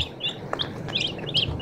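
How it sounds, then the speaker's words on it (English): Turkeys and guinea fowl calling outdoors on a farm, a run of sharp high chirps and squawks repeating in quick bursts over a quiet background. "So those are turkeys."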